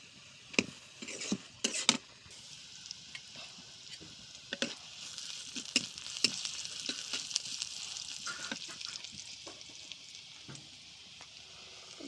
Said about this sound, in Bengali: এখন বাগারটা দিব